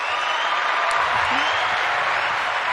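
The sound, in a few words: studio audience applause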